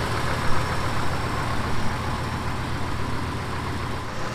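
A 1977 truck engine with a slightly leaky exhaust idles steadily up close, a loud, even rumbling drone with no talk over it.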